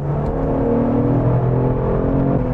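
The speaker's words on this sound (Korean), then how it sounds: "배기 사운드가 좀 더 다이나믹하게 바뀌죠" A Genesis G70 3.3 T AWD engine revving up and holding steady in Sport Plus mode, a deep rumbling exhaust drone that stays loud and close throughout.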